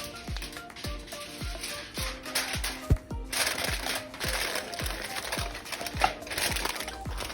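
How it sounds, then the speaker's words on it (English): Aluminum foil is crinkled and pressed over a pan of seafood boil, a close, steady crackling and rustling with light taps and a few sharper crunches, while rhythmic music plays underneath. "And now we're going to cover it with an aluminum foil as we don't like it to get dry and crispy"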